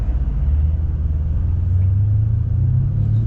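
A BMW M8 Gran Coupe weaving through traffic, heard as a deep, steady engine rumble from inside the car, with a low drone that climbs slightly in pitch near the end.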